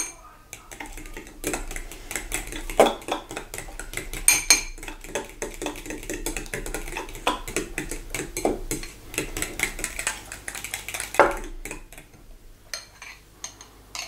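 Strawberry-jalapeno salmon marinade ingredients mixed together in a bowl, with continuous close clinking and scraping of a utensil against the dish and small knocks, no voices.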